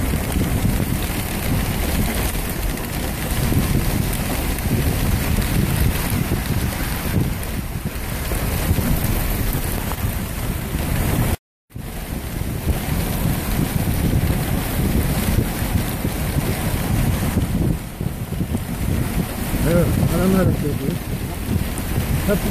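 Strong wind gusting over an open snowy village square, loud rumbling buffeting with a brief dropout midway, continuous and close to the microphone.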